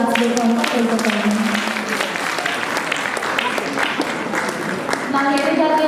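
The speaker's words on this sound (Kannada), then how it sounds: "ಅವರಿಗೆ ಜೋರಾಗಿ ಚಪ್ಪಾಳೆ ತಟ್ಟಿ ಅವ್ರನ್ನ ಸಾಗಿಸಬೇಕು ಅಂತ ಕೇಳ್ಕೊತೀನಿ" Audience applause for a women's group after their song performance at an anniversary event, a steady wash of clapping throughout with tonal sounds and a voice mixed in.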